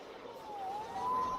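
Police sirens in the video game Spider-Man Remastered wail in a slow rising and falling tone, moderately loud and steady for a moment with no talk over them.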